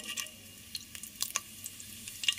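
Whole cumin seeds fry in hot oil in a home kitchen, left after eggs were fried, giving faint, scattered crackles and light sizzling pops over a quiet background.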